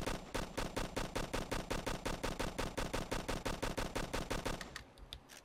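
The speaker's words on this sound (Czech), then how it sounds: "Tam je člen posádky, který po mně střílí." Rapid automatic gunfire from an enemy crew member in the Operation Flashpoint Cold War Crisis game, a long, loud, evenly spaced burst that stops abruptly near the end and leaves a short tail.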